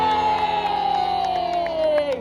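A crowd cheers and shouts for the King, a loud, dense roar of many voices held steadily for about two seconds, with a sustained tone sliding slowly downward above the cheering.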